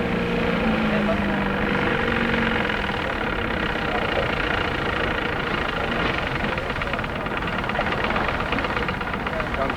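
A helicopter serving as a long-range airborne diving platform for Cousteau's crew drones steadily with a constant engine and rotor roar, loud and continuous beneath a narrating voice.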